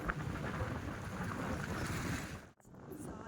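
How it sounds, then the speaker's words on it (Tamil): Strong wind at the seashore buffets the microphone in a continuous rushing roar, briefly dropping out near the end before resuming. "காற்று சரியான காற்று அடிக்குது."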